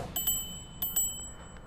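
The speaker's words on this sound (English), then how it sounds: "on the left side we have our rear brake, our turn signals, and a bell." Bell on the left handlebar of an ECOROAD ET6 budget electric scooter, rung as two quick double dings with a thin metallic ring, fairly faint and close, over a low background hum.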